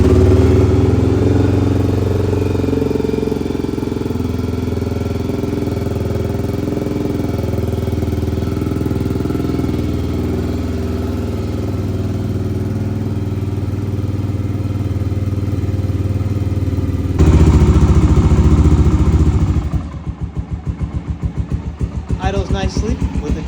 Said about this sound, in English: Idles nicely with the choke off.